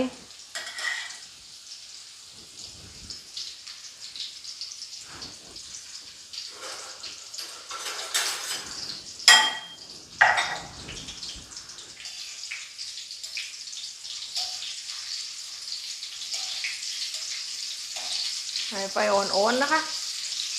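Pork wontons frying gently in oil over low heat, a steady soft crackle and bubbling hiss with occasional clinks of utensils against the pan, fairly close and continuous, no voices.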